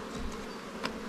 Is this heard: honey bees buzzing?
yes